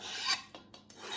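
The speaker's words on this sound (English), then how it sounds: "In with the spinach" Fresh spinach goes into a pan for spanakopita, making a brief rough rasping and rustling hiss in a few bursts, close and fairly soft, without any talking.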